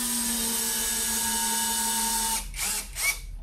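A compact SfunPro 16V cordless drill running in gear 1, a loud, steady high motor whine close up, then stopping as the sound breaks into a few short bursts near the end.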